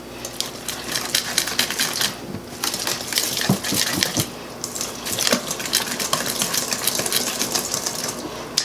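Almond flour pancake batter whisked by hand in a bowl, a busy run of quick clinking and scraping strokes that keeps up steadily and close throughout, with brief pauses.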